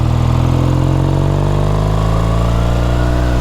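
A 1969 Triumph T120R Bonneville twin idles steadily at close range, its engine loping with an even, throbbing rhythm and no other sounds on top.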